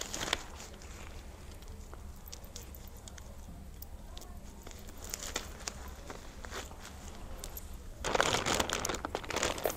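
A plastic trash bag is handled while a nail technician's station is set up, crinkling and rustling close by in scattered bursts, with a louder crumpling flurry near the end.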